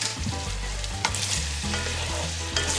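Chicken livers sizzle steadily as they are stirred in a hot pan ahead of a flambé, with near, continuous frying hiss and scraping stir sounds, alone and fairly loud throughout.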